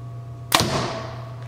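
A compound bow looses a 450 grain arrow with a single sharp, close crack, followed by a short decaying ring over a steady low hum.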